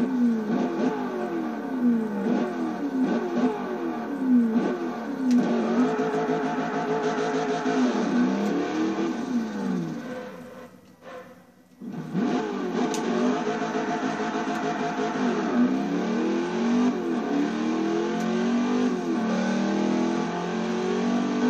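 A Corvette engine swapped into an Impala revs hard in Forza Motorsport 4, pitch climbing and dropping through repeated gear shifts, briefly cutting out midway before roaring back up.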